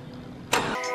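A Subaru WRX engine catches after a brief crank, jumping into a loud, steady idle close by.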